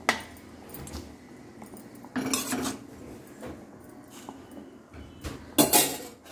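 Tamarind gravy with stuffed brinjal being stirred in a metal pot, giving scattered clinks and scrapes of a spoon against the vessel, with a few louder knocks, close and irregular, and no voices.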